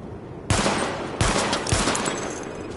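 Weapon test gunfire in Tom Clancy's The Division, three loud close bursts of rapid shots, the first starting sharply after a brief quiet and each followed by a fading tail.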